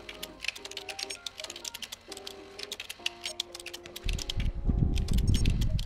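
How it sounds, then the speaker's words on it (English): A cat walking across a computer keyboard in the video game Stray: a steady run of light, clicking key taps over a soft melodic score, with a low rumbling swell joining near the end. "I'm just typing."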